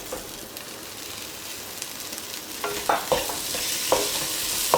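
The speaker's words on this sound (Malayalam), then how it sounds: "തക്കാളിയും ഒന്ന് കുക്കായി വരുന്നത് വരെ നമ്മൾ ഇളക്കി കൊടുത്തുകൊണ്ടിരിക്കുക" Tomatoes being stirred into a simmering papaya masala curry in a pan, with a low bubbling sizzle underneath and several sharper scraping strokes of the spoon, close and growing slightly louder.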